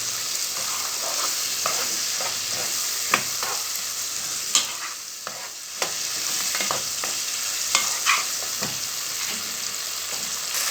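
Fava beans, eggs and pastrami fry together in a pan, a steady sizzle running throughout with occasional sharp scrapes and clinks from stirring.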